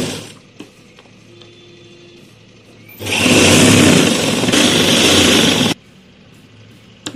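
A sewing machine stitches saree pleats in a single loud, steady run of about three seconds in mid-clip, with quiet stretches before and after and no talking.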